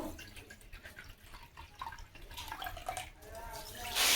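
Water pours into a bowl of sugar for homemade motichoor laddu, a soft liquid trickle with small drips that swells into a louder splash at the end, under quiet speech.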